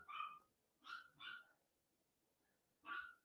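A dog barks in the background, four separate sharp yips in an irregular pattern, moderately distant and alone, with no talk over them.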